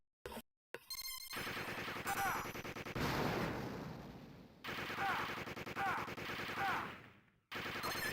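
Video game gunfire sounds in loud, sustained automatic bursts broken by short silences, with squeaky electronic effects layered over the shooting.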